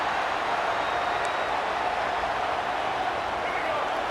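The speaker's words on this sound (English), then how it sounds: "Listen to the crowd energy here in the early going." Stadium crowd noise fills the College Football 26 video game as a steady, loud wash of cheering and roaring for Michigan at Oklahoma, continuous without pauses.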